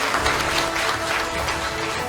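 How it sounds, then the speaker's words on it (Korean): Dense, steady applause from a large crowd of party members welcoming guests at a party convention joint rally in Gyeongbuk, filling the hall continuously without a break. "당원 동지 여러분을 환영하는 뜨거운 박수를"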